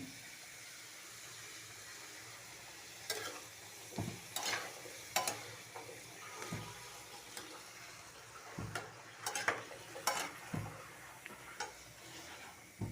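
A low, continuous sizzle of fish frying in a pan runs beneath intermittent spatula scrapes and clicks, quiet and close, with no voices.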